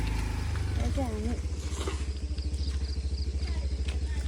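A scooter engine running steadily with a low droning rumble, heard close under a man's speech and ambient outdoor noise.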